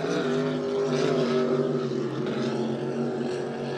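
A race powerboat with tractor-style exhausts drones past with a deep, rumbling exhaust tone, loud and sustained, its pitch shifting slightly as it goes by.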